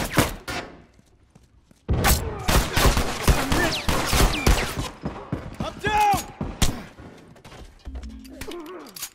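Gunfire in The Last of Us on PS4: dense bursts of loud, sharp shots crack in rapid succession, then thin out into scattered single reports with mechanical clatter, and a voice briefly comes in near the end.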